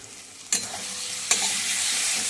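Mutton stir-fried in a wok with chili powder: a constant close sizzle broken by two sharp scraping stirs of a spatula against the pan, no talking.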